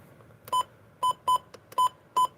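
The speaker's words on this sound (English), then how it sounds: "Wow, that was a fast button beep." Five short electronic beeps in a quick, slightly uneven sequence from a button on a Yamaha WR120 DSP, clear and close with a bright tonal ring, over a faint hiss.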